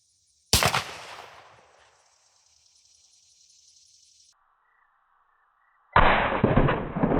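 A single loud shotgun blast firing a 2-3/4 inch Federal high density 9-pellet 00 buckshot load at jugs outdoors, ringing out and decaying, followed later by another sharp burst of noise.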